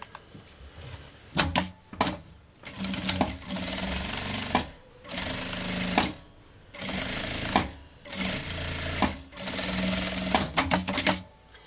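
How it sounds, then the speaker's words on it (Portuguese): A sewing machine stitches printed fabric for a simple women's backpack, running in about half a dozen steady whirring bursts of one to two seconds, separated by short pauses and small handling clicks, close and loud with no talking. "Vou passar uma costura aqui com um pé de máquina."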